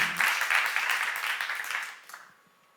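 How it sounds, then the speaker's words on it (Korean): Audience members at a church seminar clap together in a brief, dense burst that fades out within a couple of seconds, with no talk over it. "믿는 사람만 박수 한번 쳐보세요"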